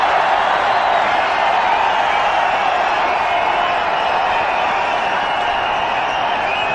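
A large cricket crowd roars steadily after a boundary, a sustained, dense wash of cheering and applause at even volume with no clear breaks.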